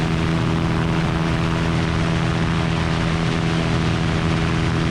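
A GT500 ultralight aircraft's engine drones steadily at reduced power, a loud continuous hum with a strong low tonal buzz that holds even throughout, heard close from inside the aircraft.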